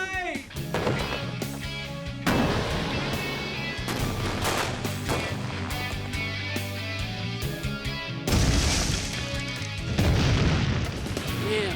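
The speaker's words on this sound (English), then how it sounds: "Now that's what I call an exploding piano!" A piano blown apart by explosives in a MythBusters experiment: a series of loud, close booms and sharp bursts repeat across the stretch, layered over a dense, sustained tonal backdrop, with strong blasts near the start and again toward the end.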